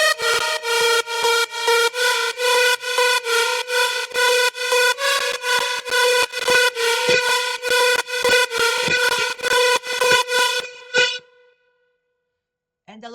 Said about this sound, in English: So this is the first lead. It sounds like this.